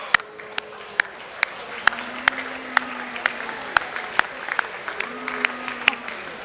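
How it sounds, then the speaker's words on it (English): Scattered, sparse clapping from a school audience at an academic awards assembly for Years 10-12, with individual sharp claps standing out over a low murmur of the hall. "Give yourselves a round of applause"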